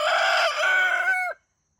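A rooster crows once, a loud, close, drawn-out call lasting just over a second before cutting off into silence.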